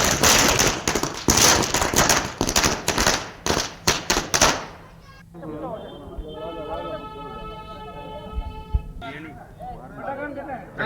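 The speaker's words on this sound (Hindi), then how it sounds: "पटाखे फोड़कर जश्न मनाया जा रहा है" Firecrackers burst in a rapid crackling barrage during a street celebration in Jodhpur, loud and dense for several seconds before stopping, followed by crowd chatter and voices.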